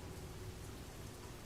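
Rain falls steadily as an ambient sound effect in a tabletop role-playing session, a dense, even hiss of drops with no speech over it.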